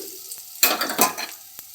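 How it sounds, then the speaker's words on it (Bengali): Vegetables for chow mein are stir-fried in a pan, giving a short burst of sizzling and scraping that rises suddenly and fades within about a second. "প্রায় 2 মিনিট নাড়াচাড়া করব।"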